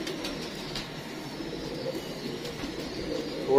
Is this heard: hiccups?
no